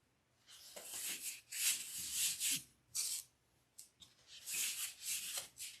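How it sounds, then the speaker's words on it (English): A wooden dowel rubs and scrapes through polyfill stuffing inside a wreath form, making close, breathy swishing strokes in uneven bursts separated by brief pauses. "I take the dowel and I just kind of spread out the polyfill."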